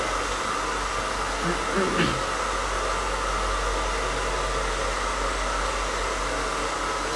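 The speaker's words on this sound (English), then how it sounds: "I'm focusing on the roots at first, just getting those roots dry and smooth" A hair dryer blows steadily on the roots of short hair during a haircut, a loud, close, continuous whooshing roar that hardly changes in level, with no one talking over it.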